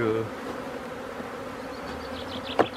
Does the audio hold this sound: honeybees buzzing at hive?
yes